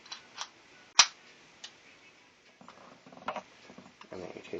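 A Tanfoglio pistol slide slid back onto its frame during a fieldstrip, giving one sharp metallic click followed by a few softer scrapes and small clicks, close and fairly quiet, with no talk.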